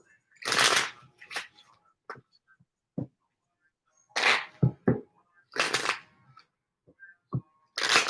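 Tarot cards riffled and shuffled in several quick bursts, each a crisp flurry of snapping card edges followed by short taps and pauses, close and clear in a quiet room.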